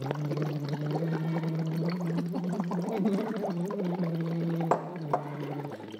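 Bubbles blown steadily through a straw into water as a breathing warm-up, a continuous close gurgling bubbling with a steady hum underneath for about six seconds, ending with a couple of small knocks.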